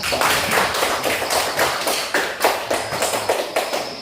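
Children in a primary school classroom clap together in a quick, uneven burst, loud and close, with individual claps standing out as rhythmic taps through the whole stretch.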